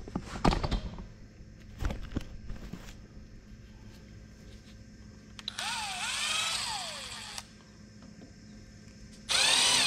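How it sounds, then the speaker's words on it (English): Power drill boring a hole into the front door of a Kubota SVL75-3 skid steer, with a few sharp clunks and handling knocks followed by two whining bursts of the drill, close and loud. "I think I should be able to drill a hole into it,"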